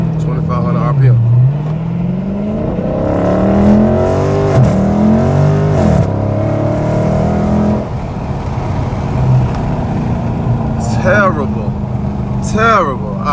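A Dodge Charger Scat Pack in sport mode holds about 2,500 RPM on launch control, then launches. The engine revs rise and fall loudly, and people talk over the engine.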